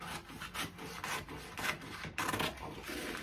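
Scissors cutting through fabric for a corset vest, a close, continuous rasping crunch of blade on cloth in rhythmic strokes, with a brief pause near the end before cutting resumes.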